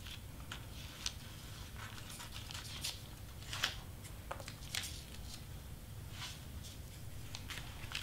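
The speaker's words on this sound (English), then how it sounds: "we're gonna cut it up like this." Scissors snipping through vinyl sign material for a 20x30 inch acrylic wedding sign, a scattered series of short, crisp cuts and rustles at close range, with no talking.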